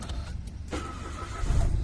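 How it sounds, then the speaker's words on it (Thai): A Mitsubishi Mirage fitted with a smart key is started by push button: a short cranking whir catches and the engine settles into a steady idle, close and clear, with no talking. "เหยียบเบรกนะครับกดปุ่มสตาร์ท"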